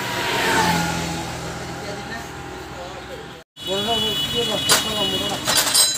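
A TVS Apache motorcycle engine runs and revs with a steady mid-pitched roar, breaks off briefly, then returns under a person talking over it.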